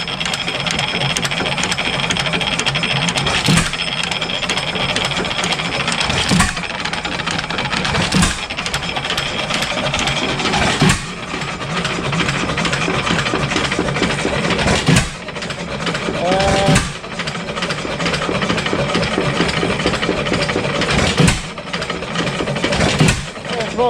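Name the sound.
7HP Stickney hit-and-miss engine running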